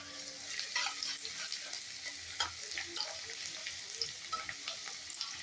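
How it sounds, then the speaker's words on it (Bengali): Dry red chili, green chili and garlic frying in a generous amount of oil in a pan, a soft continuous sizzle with faint crackles and occasional stirring clinks, quiet and close. "এর মধ্যে শুকনো লঙ্কা আর কাঁচা লঙ্কা রসুনটা একটু ভেজে নিই"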